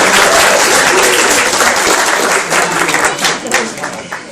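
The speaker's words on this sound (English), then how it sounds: "So a big round of applause." Wedding guests break into a big round of applause during the reception speeches, dense clapping with some crowd noise that thins and becomes more scattered toward the end.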